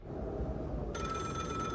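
A telephone in a horror video game begins ringing partway through, a steady bright electronic ring that keeps going over a low, dark ambient rumble.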